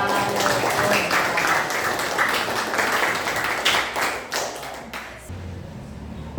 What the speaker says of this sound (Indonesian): Beri tepuk tangan ya.